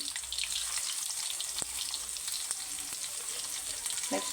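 Mustard seeds, cumin and garlic fry in hot oil for a tempering, a steady close hiss with faint crackles and a few small pops throughout, no talking.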